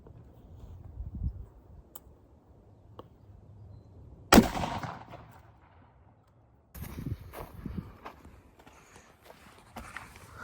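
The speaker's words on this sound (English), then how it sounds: "We're gonna step it up to a 458 SOCOM." A .458 SOCOM rifle fires a single sharp, loud shot into a stack of tires in an outdoor setting, followed by quiet shuffling, footsteps and faint handling noises.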